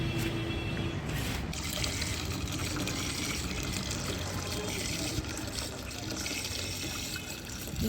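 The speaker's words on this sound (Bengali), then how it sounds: "জল দিয়ে দিই গাছে" Water is poured onto a potted plant as a steady, faint splashing trickle that continues throughout.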